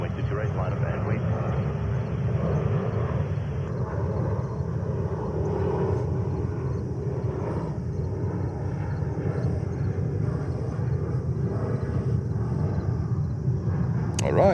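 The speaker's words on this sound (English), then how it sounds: "Alright, 747, it's a Saudia flight." A Saudia Boeing 747 at JFK airport in New York, its engines a steady, loud jet roar and rumble that holds evenly throughout with no break.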